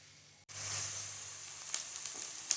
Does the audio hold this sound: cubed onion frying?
yes